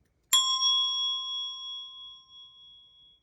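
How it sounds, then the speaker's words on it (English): A Montessori bell rung like a handbell gives a single clear, bright ding, and its metallic tone rings on and fades slowly over about three seconds in a quiet room. "And this is how it would sound if I used it like a handbell."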